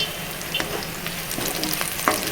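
A brinjal and tomato curry fries and sizzles in a pan, steady and close, while a spoon scrapes and stirs it in a few soft strokes.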